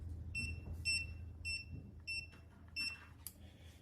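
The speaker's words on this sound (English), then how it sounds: "After 2 beeps, we know the password is correct" A security keypad sounds a series of short, clean electronic beeps, five or six evenly spaced over a few seconds, over a low background hum with no voices.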